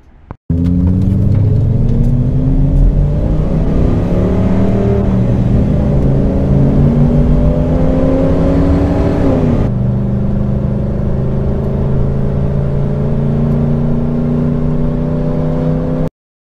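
A lifted Ford Econoline van with a V10 engine and stock tires accelerates hard, its loud engine drone climbing steadily through the gears with one clear shift midway, close and continuous with no talking.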